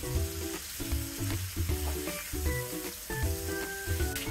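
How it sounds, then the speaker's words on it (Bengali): Pieces of catla fish browning in hot oil give off a continuous crackling sizzle, with bubbly spitting bursts that rise and fall without pause. "মাছগুলোকে একটু সময় নিয়ে ভাজতে হবে।"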